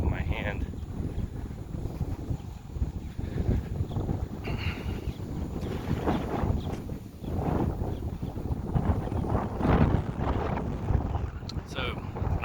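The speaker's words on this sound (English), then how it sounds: "The wind's getting really bad. I don't know how the audio is going to sound." Strong outdoor wind buffets a handheld microphone near Nubbin Slough, with a steady loud rumble and gusty roar throughout, louder surges around the middle and end, and a voice talking faintly underneath.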